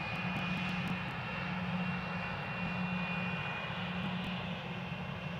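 A distant aircraft engine drones steadily at Glasgow airport, a low continuous rumble with a faint high whine running through it, holding even and unbroken from start to finish with no voices.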